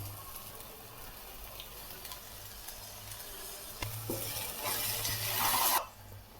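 Tomato puree with ginger garlic paste frying in a pan for chicken curry, a faint steady sizzle with light stirring scrapes that swell louder near the end before cutting off.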